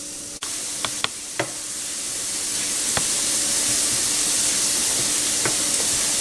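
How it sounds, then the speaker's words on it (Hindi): Chopped garlic hits three tablespoons of hot oil in a pan, a sharp crackle that builds into a steady, loud sizzle with a few faint clicks. "उसी पैन में 3 टेबलस्पून ऑयल डालेंगे और ये चॉप्ड गार्लिक भी ऐड कर देंगे।"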